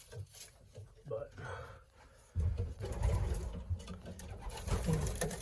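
Racing pigeons in a loft coo and shuffle close by while someone talks over them, the birdsounds steady and layered beneath his voice.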